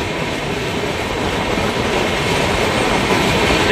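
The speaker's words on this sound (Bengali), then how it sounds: "ট্রেন পরিপূর্ণভাবে বেরিয়ে পড়লো এই প্ল্যাটফর্ম থেকে" The Brahmaputra Mail express train pulls out of a platform, heard from on board as a loud, steady rumble of carriages with dense rhythmic wheel clatter on the rails, close and constant, no voices.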